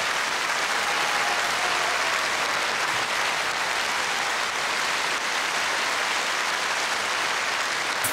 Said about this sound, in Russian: Друзья, ваши аплодисменты.